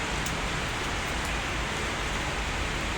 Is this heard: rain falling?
yes